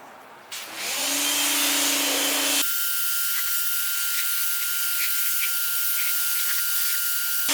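A pressure washer sprays a steady loud hiss while rinsing off a foam cannon, starting abruptly and holding a constant roar with a faint tonal whine, close and alone without talk.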